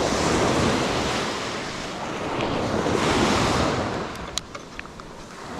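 Ocean surf rolls and washes onto a fishing beach in a steady broad roar, with gusty wind buffeting the microphone and a few faint clicks near the end.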